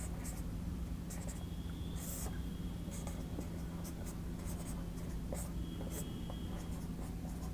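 Chalk or a pen scratches out a physics formula on a board in quick, dense strokes over a constant low room hum, with short bursts of faster scribbling.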